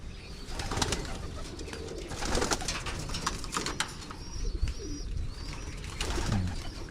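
Pigeons coo softly in a loft, with repeated low throaty calls and scattered rustling and faint flapping in the background, and no talking.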